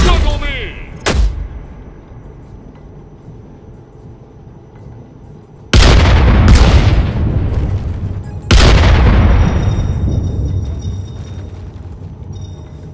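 Core explosions in the VR game The Lab: a brief sharp blast, then two heavy booming detonations a few seconds apart, each leaving a loud roaring tail that fades slowly.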